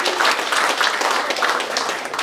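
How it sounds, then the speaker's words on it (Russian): Audience applause at a birthday celebration, a dense, steady wash of many hands clapping close and loud throughout. "Аплодисменты, пожалуйста."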